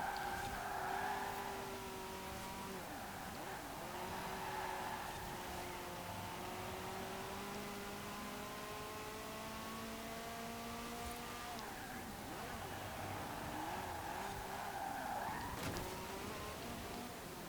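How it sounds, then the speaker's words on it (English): A 1980s V8 car racing in Forza Horizon 4 holds a steady, loud engine drone with rising and falling gear tones through the run, a shift break near the middle, and no talking over it. "got a cracking sounding V8 in this"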